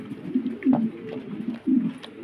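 Mundian pigeons coo in low, throaty bursts, two stronger rolls rising over a steady murmur of softer cooing, close by with no talking.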